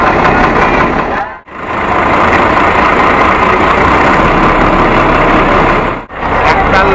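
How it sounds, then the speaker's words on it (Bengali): A passenger launch engine runs with a loud, steady low drone and rumble close by, dipping briefly twice before resuming. "তো আমাদের লঞ্চ অলরেডি চালু হয়ে গেছে।"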